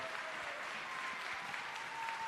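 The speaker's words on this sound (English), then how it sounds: "I want you to give this group a round of applause for being the champions of change." Faint, steady round of applause from a distant crowd at a Martin Luther King Jr. Day celebration in Minnesota, dense and continuous without a break.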